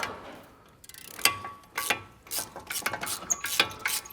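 An 18mm 3/8-inch shallow socket on a wobble extension turning out a bolt during BMW E90 front wheel bearing work, quiet, irregular ratcheting clicks and metallic ticks in short bursts, close by.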